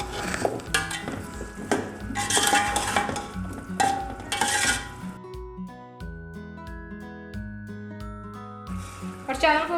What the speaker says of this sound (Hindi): अब आलूओं की हमने भुनाई कर लेनी है मसाले के साथ।